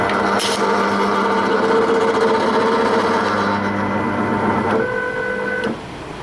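A CNC foam shaping machine runs its homing sequence, a steady whirring servo drone with shifting motor tones, a brief click near the start, then the motors change pitch and stop near the end.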